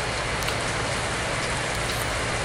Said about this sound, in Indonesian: ini cuacanya hujan